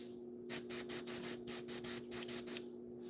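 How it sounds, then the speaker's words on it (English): Airbrush spraying paint onto tank figures, heard as about ten short, even hissing bursts in steady rhythm, close and loud over a low constant hum, with no talking. "let's spray these guys down"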